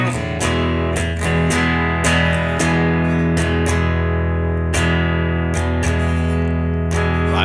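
Distorted electric guitar plays the chorus-to-bridge transition of a song, with loud, steady strummed chords and rhythmic accents throughout and no voices.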